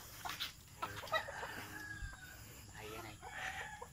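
Chickens around a village home: a rooster crows while hens cluck in short bursts nearby, fairly faint, with soft voices in the background.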